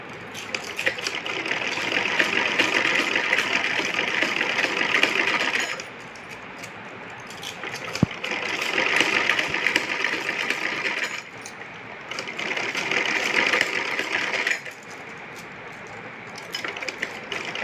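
A sewing machine stitches over the top of a kachli in three long running bursts, with short quieter pauses between them; the steady mechanical whir is close and fairly loud.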